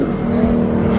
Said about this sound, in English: It's just a full-on race car. Chevy engine and a Beamer.